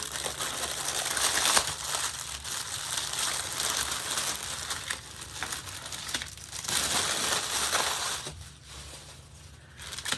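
Plastic wrapping around a boxed Christmas wreath crinkles and crackles continuously as it is handled up close, a dense rustle that swells and fades over ten seconds.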